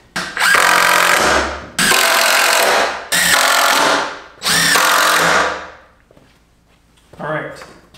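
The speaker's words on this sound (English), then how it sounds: "the only thing left to do is to put a couple screws in the corners" A power drill drives screws into the corners of a cheap DIY wooden desk, with four loud whirring bursts of about a second each, separated by short pauses, then a shorter fifth burst, all close up.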